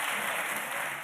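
School children in a parliament public gallery clap together, a dense, continuous burst of applause filling the chamber, loud and even throughout.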